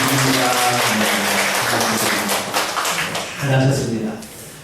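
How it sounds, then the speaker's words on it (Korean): A church congregation at a Thanksgiving service applauds, steady clapping that carries over voices and tonal sounds in the room, loud throughout and swelling again near the end. "박수 한번 하겠습니다."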